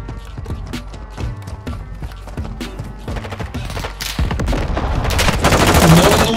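Gunfire in the video game Call of Duty Warzone 2.0, loud rapid bursts of automatic fire and sharp single shots, building into heavier continuous firing toward the end.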